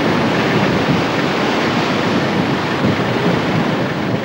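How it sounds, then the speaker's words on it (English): Surf breaking on a river mouth bar rolls as a loud, continuous wash of ocean waves, with wind buffeting the microphone throughout and no voices. "height of the waves, whether they're breaking, whether there's lots of little combers or whether they're big dumpers"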